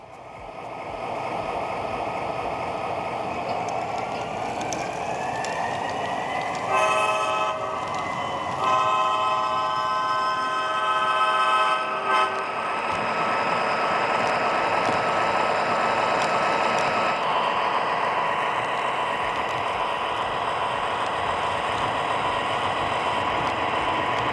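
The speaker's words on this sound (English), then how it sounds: "I'm going to run this engine around the layout, sit back, enjoy, and relax." An MTH model train engine runs around a layout, its motor humming steadily while a series of bright horn toots and whistle blasts sound partway through, fairly loud and without talk.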